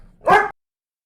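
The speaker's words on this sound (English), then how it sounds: "This rascal dog freaks out just because she hears a dog shaking her collar" A pet dog gives a single sharp, close bark, loud and brief, followed by silence.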